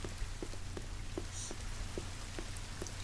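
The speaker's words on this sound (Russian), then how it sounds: "Дождливый сегодня денечек." Steady rain falls in the survival video game The Forest, a continuous even hiss with faint soft taps scattered through it and no voices.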